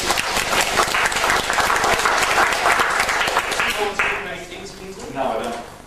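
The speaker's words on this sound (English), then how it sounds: "I'll give Kingsley a round of applause." An audience applauds for Kingsley, a volunteer at a talk on personal space and staying safe: dense, loud clapping fills most of the stretch, then thins and fades toward the end as a voice speaks over it.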